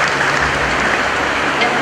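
An audience at a school gathering claps steadily to welcome a guest, a dense, even wash of applause with no break.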